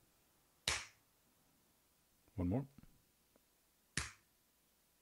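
Two sharp single hand claps for an audio test, one near the start and one near the end, clean and fairly loud in a quiet room, with a brief spoken remark between them.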